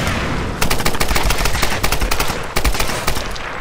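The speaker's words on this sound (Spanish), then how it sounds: "Eso, disparos en la cabeza, que dan más experiencia." Rapid bursts of loud gunfire crack in quick succession, sounding like automatic weapons firing close up, in the video game Tomb Raider Definitive Edition.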